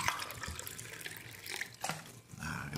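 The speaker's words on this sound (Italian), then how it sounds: "me la verso un pochino d'acqua" Water poured into a glass, a steady splashing trickle running for about three seconds at close range, with no voices over it.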